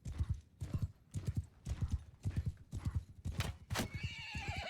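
Horses gallop in the medieval combat game Mount and Blade II: Bannerlord, hooves clip-clopping in a rapid, driving rhythm, close and prominent, with a sharp whinny breaking through near the end.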